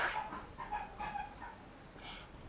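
A dog whimpering and panting close by in a short, soft burst of whines and breaths, with no voices over it.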